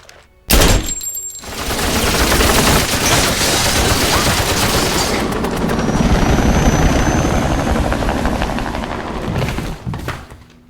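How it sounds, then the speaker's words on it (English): A gunship helicopter roars loud and close, its rotor wash steady and sustained after a sudden sharp onset, with heavy rapid gunfire blending into the din in a violent action scene. "Call in the gunship."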